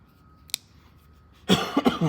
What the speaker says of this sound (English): I'm still got that bit of a dry cough